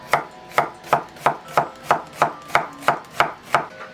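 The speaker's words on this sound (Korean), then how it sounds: "호박 1개 반달로 썰어 주세요." A knife cuts one zucchini into half-moons on a cutting board for Korean bibimbap vegetables, giving about ten sharp, evenly spaced chops up close, with no talking.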